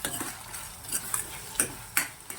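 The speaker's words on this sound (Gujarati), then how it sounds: "અને વચ્ચે વચ્ચે આપણે ચમચો છે ફેરવતો રહેવાનો છે" A spoon stirs green chillies frying in a pan for a chutney, giving a few sharp metallic clinks and scrapes at irregular intervals over a soft, steady background hiss.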